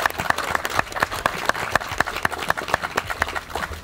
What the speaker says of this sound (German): Fetter Applaus.